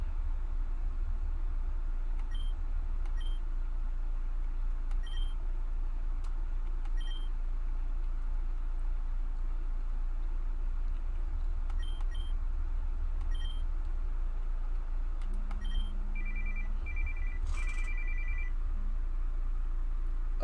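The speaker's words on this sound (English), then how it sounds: "that was my alarm" Phone alarm going off in repeated short electronic beeps spaced a couple of seconds apart, faint against a steady low hum, with a brief cluster of chirpier tones near the end.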